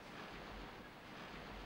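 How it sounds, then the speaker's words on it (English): A water wheel turns in the Tomb Raider 3 Nevada Desert level, a dense rushing churn of water that stays steady and even across the whole stretch with no voices. "good old water wheel's going now"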